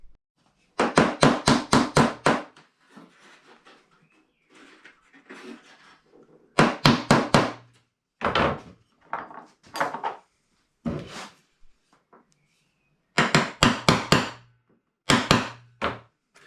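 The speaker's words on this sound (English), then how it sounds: "then I'm going to nail and glue" Hammer blows nail pine strips onto a wooden window frame, coming in quick clusters of sharp knocks separated by short pauses, with fainter taps between the louder bursts.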